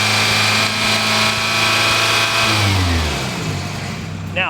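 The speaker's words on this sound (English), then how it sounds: "As you can hear, the engine sounds really good." A car engine overfilled by one extra quart of oil runs steadily at idle, a smooth low drone that briefly revs and falls back, heard up close without talk.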